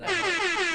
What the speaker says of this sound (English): We'd be the only politics show that does the air horn live.